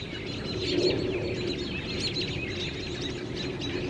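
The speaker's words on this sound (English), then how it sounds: "look at this bird up here" A bird calls from a tree in short, repeated chirps over a steady outdoor background hum, faint to moderate and somewhat distant.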